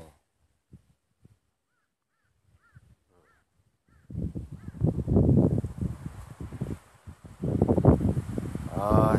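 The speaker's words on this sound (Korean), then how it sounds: "진짜 바람 장난 아니야." Strong wind roars and buffets the microphone after a quiet start that carries a few distant crow caws. A person talks beneath the gusts.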